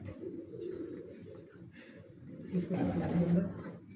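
Pigeons at a rooftop loft coo and flutter softly and steadily, with a fuller burst of cooing near the end, while people talk nearby.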